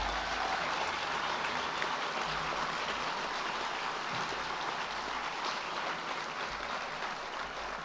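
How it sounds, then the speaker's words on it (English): An audience at a university celebration claps steadily throughout, a dense wash of many hands that sounds a little like rain, fairly distant and even in level. "you're using a lot of my minutes with this clapping"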